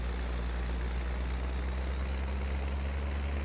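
Tractor engine in a farming video game running steadily with a constant low drone and hum, no voices over it.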